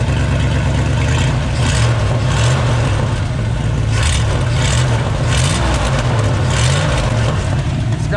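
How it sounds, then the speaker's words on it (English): A car engine with an exhaust leak idles loud and close with a rough, uneven putter and a raspy ticking exhaust note. "It's got an exhaust leak."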